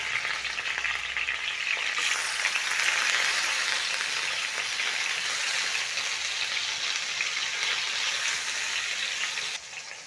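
Fish fillet frying in a pan just after being flipped, a loud, dense, crackling sizzle that holds steady throughout before dropping off slightly at the very end.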